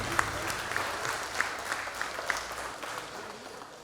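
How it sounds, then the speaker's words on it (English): Applause from an audience at a coal industry show's media and exhibitor breakfast: steady, moderately distant clapping from a room full of people, with a few sharper individual claps poking out, fading toward the end. "one more round of applause for everybody who promotes the Bluefield Coal Show"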